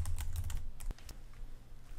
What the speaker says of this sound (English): I'm simply typing what I want and then hitting enter to move to the next section.